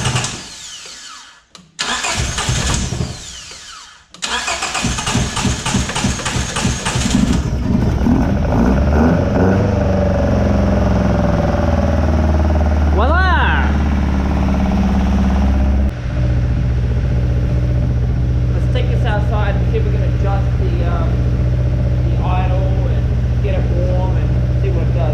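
A Toyota 4A-GE engine, fitted with a converted starter motor, cranks in a few loud stuttering bursts, then catches and settles into a steady, close, rumbling idle that carries on for the rest of the clip.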